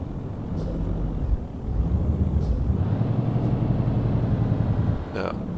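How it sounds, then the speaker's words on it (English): Truck engine brake in Euro Truck Simulator 2, a steady low engine drone with a brief hiss near the end, under continuous talk. "now I will use the motor brake"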